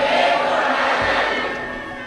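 A large crowd at a Shravan Shiv Mahapuran katha chants the Bol Bam slogan, a dense, loud wash of many voices that holds steady for about two seconds before tapering slightly.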